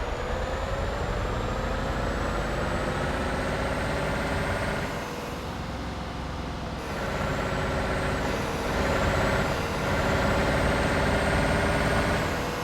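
Truck in Euro Truck Simulator 2 heard from outside the cab: a loud, steady diesel engine drone with a high whine, dipping briefly midway before air brakes hiss and the engine rumbles back up.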